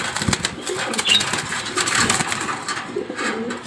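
Red checker racer pigeons coo steadily nearby, a soft continuous murmur of calls with some shuffling and faint wing movement.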